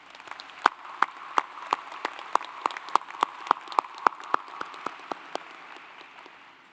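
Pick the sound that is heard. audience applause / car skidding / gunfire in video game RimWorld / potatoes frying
audience applause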